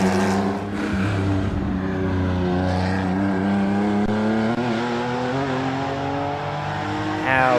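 A 1993 Nissan touring car engine, loud and close, revs hard as it accelerates out of a hairpin, its pitch climbing steadily through the gears at a race circuit.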